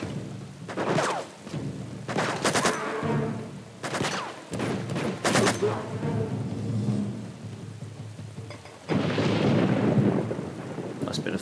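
Rolling thunder and steady rain in the Uncharted: Among Thieves video game, loud and close with several rumbling bursts, a heavy downpour surging near the end.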